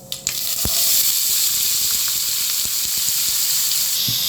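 Vegetables for upma, carrot, onion and ginger, hit hot oil in a frying pan, giving a steady close sizzle and hiss with a few small pops and clicks throughout.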